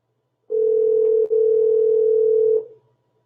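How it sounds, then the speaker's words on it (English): A single long telephone tone sounds loud and close for about two seconds with a brief break partway, then stops, with no voices. "Nobody's answering the phone. Answer the phone."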